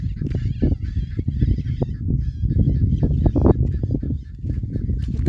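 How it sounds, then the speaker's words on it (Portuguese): Macaws call in the bush near a potato plantation, a flock of harsh, honking squawks repeating loudly and close, overlapping one another without pause. "Olha as araras. Tem pouca arara pra colar cantando."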